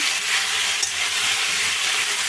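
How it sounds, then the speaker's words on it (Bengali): Chopped, slightly underripe tomatoes are stirred in a hot frying pan for chutney, giving a loud, steady close sizzle with a brief utensil tap partway through. "কেটে রাখা টমেটোটা দিয়ে একটু ভালো করে নেড়ে নিচ্ছি"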